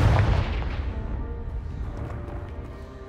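A Confringo fire spell blasting a piled obstacle in Hogwarts Legacy: one loud, close booming burst that decays into a rumbling, crackling tail over a few seconds, with no talk.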